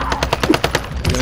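Rapid automatic gunfire in Warzone, likely from a Milano 821 submachine gun, rattles in close, loud bursts of about a dozen sharp shots, with a brief pause before a final few rounds.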